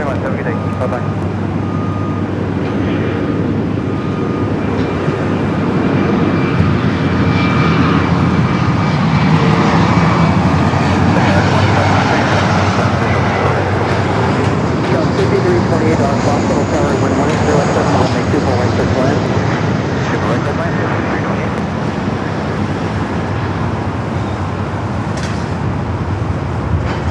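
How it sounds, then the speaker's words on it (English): An American Eagle SkyWest CRJ 700 regional jet arriving at LAX from Sacramento, a loud sustained engine roar swelling and easing over nearly half a minute beneath ongoing talk and radio chatter. "Next arrival is the flight coming from Sacramento, American Eagle SkyWest, flight 6348, a CRJ 700"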